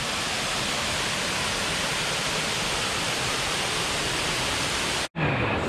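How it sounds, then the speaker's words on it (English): A waterfall on the Ricketts Glen Falls trail roars as a steady, loud, broadband rush for about five seconds, then cuts off sharply with a brief dropout before the water noise returns. "Another beautiful waterfall."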